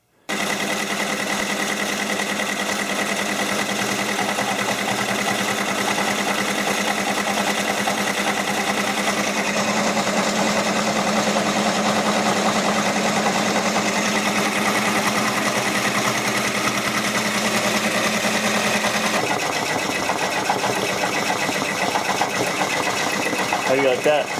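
An embroidery machine stitches a patch with a steady, rapid mechanical whir and buzz that runs continuously at close range, shifting in tone near the end.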